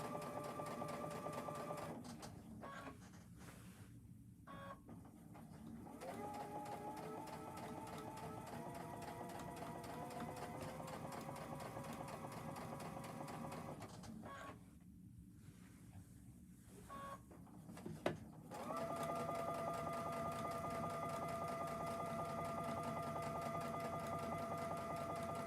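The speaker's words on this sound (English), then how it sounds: "we're just going to slowly just top stitch this yoke right into place" A sewing machine top stitches an apron yoke in long, steady whirring runs with a whining motor tone, broken by short pauses and a sharp click before the final stretch, fairly quiet and close.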